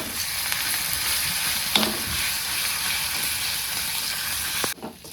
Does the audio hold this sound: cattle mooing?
no